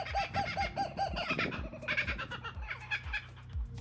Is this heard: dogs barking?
no